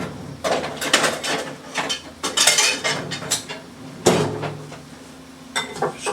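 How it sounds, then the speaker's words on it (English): Salad tossed in a bowl beside sizzling pork chops, giving irregular clattering and scraping bursts of utensils against the bowl, close and fairly loud, with a low sizzle running underneath. "just toss the salad."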